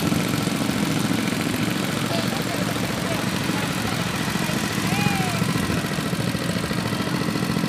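An engine-powered machine hauls a 300-metre fishing net rope ashore on the east beach of Pangandaran. It gives a steady, loud idling drone that runs unbroken throughout.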